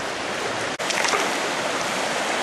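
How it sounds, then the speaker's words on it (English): Water flows over rock in a creek where gold is being panned, giving a loud, steady rushing hiss that fills the space close by, with one brief dip in level and no voices. "here we are, still working at the river"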